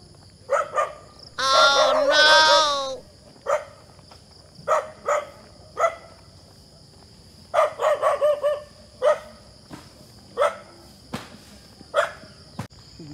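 Several dogs barking, a long loud burst followed by scattered short barks at varying distances, with insects chirping steadily in the background.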